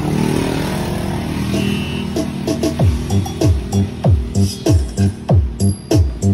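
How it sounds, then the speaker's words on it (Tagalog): A mid-high loudspeaker in a home setup with amplifiers and a mixer plays a rhythmic beat with steady, punchy low thumps repeating alongside a busy mid-high hiss. "Yan yung tunog ng ating unang mid-high"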